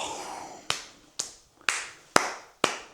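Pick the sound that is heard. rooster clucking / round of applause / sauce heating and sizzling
round of applause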